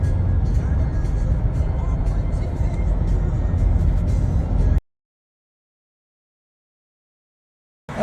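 A Ford Raptor pickup drives along a road with a steady, loud engine and tyre roar, then the sound cuts to silence for several seconds before briefly returning.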